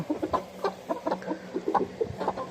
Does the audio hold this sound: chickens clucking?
yes